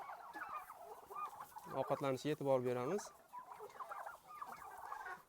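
Big 6 turkey poults, about two and a half months old, call together in a coop in a short cluster of stacked, tonal clucks, with someone speaking before and after.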